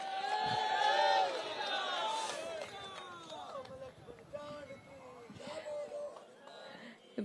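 Devotees crowd a Hindu temple gathering where many deities are assembled, raising a loud, close babble of overlapping voices and shouts that stays dense throughout and eases slightly toward the end.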